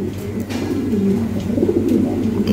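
A large Lahori pigeon gives low, throaty coos close by, a soft rolling murmur that runs throughout.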